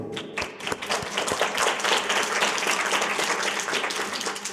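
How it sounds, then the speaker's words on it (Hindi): A church congregation at a Good Friday service in Pakistan bursts into loud, sustained applause, dense overlapping claps filling the room throughout with no break. "खुदा यीशु मसीह की सलीब के लिए, उसकी कुर्बानी के लिए हम ज़ोरदार तालियां बजाएंगे"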